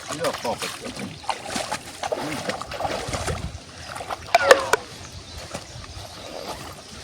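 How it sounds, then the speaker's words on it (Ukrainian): A person wades into shallow water by a riverbank in autumn, with several close splashes and sloshing bursts near the middle and a louder splash later, while people talk throughout. "Я вже в воді сьогодні побував, хай он Вова йде в воду."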